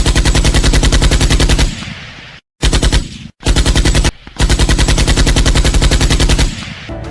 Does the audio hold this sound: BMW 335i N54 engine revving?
no